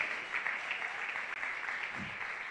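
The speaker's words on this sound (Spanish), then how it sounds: "Den un aplauso a Dios." Church congregation at a live miracle service applauding God, a faint, distant, even rush of many hands clapping for a couple of seconds.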